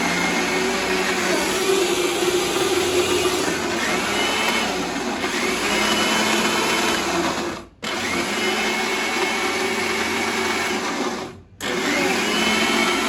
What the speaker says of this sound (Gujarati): દાળ છે ને કઈ છે ને મિક્સરમાં પીસાય છે